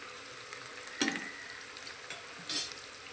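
Onions sautéing in a pan for vegetable pulao, a soft steady sizzle with occasional stirring scrapes and a couple of brief louder stirs, close and alone with no talk.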